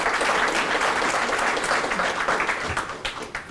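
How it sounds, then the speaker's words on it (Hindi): A live audience claps at a stage conversation with lyricist Manoj Muntashir: dense, steady applause from many hands, loud and close, thinning slightly near the end. "और ये तालियाँ बता रही हैं कि ये सब मुझसे एग्री करते हैं इस बात।"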